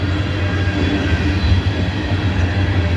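A freight train of tank cars, some carrying liquefied petroleum gas, rolls past close by with a loud, steady rumble and a continuous low rail drone, no voices heard.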